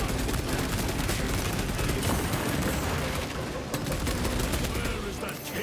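Sustained heavy gunfire rattles through a Space Marine 2 battle in the Warhammer 40k game, a dense continuous barrage with scattered booms layered under it, loud and unbroken for several seconds.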